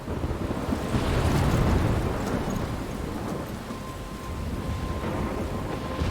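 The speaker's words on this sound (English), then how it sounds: "I'm trapped in a storm?" A thunderstorm with steady heavy rain and rolling thunder in the video game Life is Strange, a dense continuous roar with a louder rumble swelling early on, and no talking.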